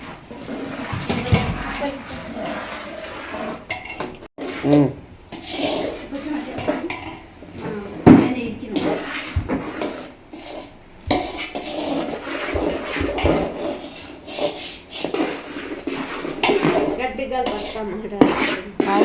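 A pot comes off a gas stove, then ariselu batter with ghee and sesame is stirred while flour is poured in. Metal pots and spoons clatter and scrape repeatedly and close by as people talk throughout.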